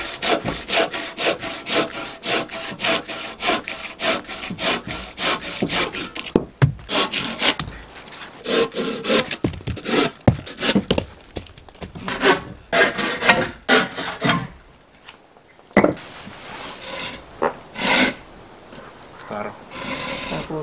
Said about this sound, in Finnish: Ja sit meillä on saha. Kun se huutaa vaan